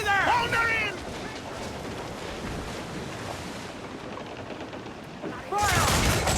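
Ship cannons fire in Assassin's Creed Black Flag during a naval battle, a rough rumbling barrage with wind and sea noise, as shouted voices call out at the start and end.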